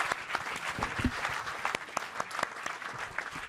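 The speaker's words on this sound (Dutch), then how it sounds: "Jongens, applaus voor Janne Wietske." Audience at an informal Dutch event clapping for a performer, a lively round of mixed claps, fairly close and continuous for a few seconds without talk.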